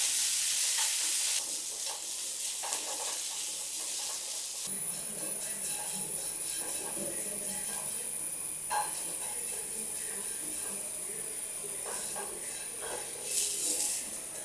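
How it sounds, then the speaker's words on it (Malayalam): Onions with ginger, garlic and green chili sautéing in a pan for egg curry, a steady close sizzle and hiss with occasional stirring scrapes, continuous throughout with no talk. "രണ്ട് മീഡിയം സൈസ് സബോള ഇതുപോലെ അരിഞ്ഞു കൊടുത്ത് ഒന്ന് ഇളക്കിയതിന് ശേഷം ഒരു ടീസ്പൂൺ ഉപ്പ് കൂടി ചേർത്ത് നല്ലപോലെ വഴറ്റിയെടുക്കണം"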